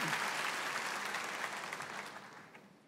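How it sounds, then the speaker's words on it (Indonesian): A church congregation applauds during an online Easter service, dense broadband clapping that holds steady and then gradually fades toward the end, with no speech over it. "kita tepuk tangan yang lebih meriah lagi bagi Dia"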